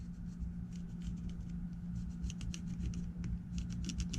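A pen marking fabric beside a zipper's nylon teeth for a seam, light scratchy strokes repeating close up over a steady low hum.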